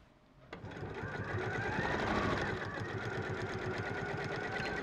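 A sewing machine stitches fabric, starting after a short quiet pause and then running as a fast, steady mechanical whirr close by, with a voice speaking over it.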